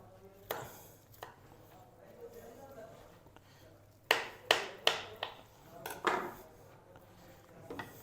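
A knife cuts raw chicken pieces at the joint on a board, making a quick run of four or five sharp chops followed by a few scattered knocks, while a person talks quietly between the cuts.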